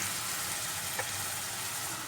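Curry leaves frying in hot oil for a ginger broth, a steady dense sizzle close by with one brief pop near the middle, no talking.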